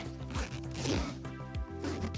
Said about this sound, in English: let's pull these zips up and see what happens